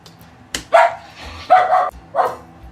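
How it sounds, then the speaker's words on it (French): A dog barks three times in a home kitchen during cooking. The barks are loud, sharp and close, with short gaps between them. "le chien est sur la vidéo"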